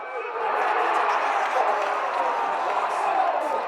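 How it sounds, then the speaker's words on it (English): Eagles fans cheer at a rugby league grand final against the Rams, a broad steady crowd roar that swells and holds for several seconds with voices mixed through it. "The crowd went up. The Eagles fans are celebrating."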